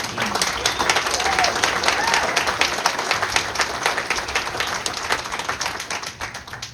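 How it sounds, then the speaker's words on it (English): Audience applause at a military retirement ceremony, steady dense clapping from a crowd filling the whole stretch at a fairly loud level, tapering slightly at the end. "Let's give them a quick round of applause before we continue."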